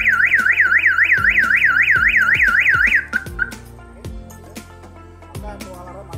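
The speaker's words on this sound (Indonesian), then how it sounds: "Ini sudah dalam keadaan terkunci pintunya dan kita membuka pintu secara paksa. Perhatikan untuk sirine alarmnya." A universal car alarm siren goes off loudly when a locked car door is forced open, with a warbling tone for about three seconds. It then cuts off, followed by clicks and knocks.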